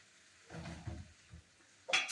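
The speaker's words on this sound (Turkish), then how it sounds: "Bunları kızartayım." Potatoes frying in a pan in a home kitchen, a soft sizzle with a few stirring scrapes and a brighter burst of crackle at the end, with no talking.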